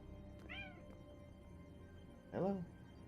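A house cat gives two short meows, the second louder and closer, with a quiet room hum in between.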